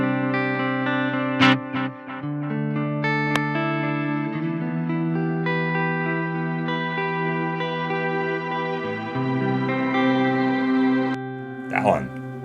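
Electric guitar played through a Crazy Tube Circuits Sidekick pedal with distortion switched on, sustained saturated chords and notes ringing with a thick ambient tail, continuous and loud, with a short burst of noise near the end.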